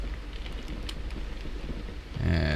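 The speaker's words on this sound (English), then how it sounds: "And it's raining, it's pouring" Steady rain drumming in a flight simulator game, a dense continuous hiss with a swell of low rumble near the end.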